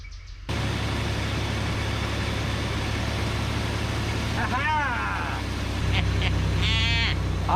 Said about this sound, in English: Idling like a champ.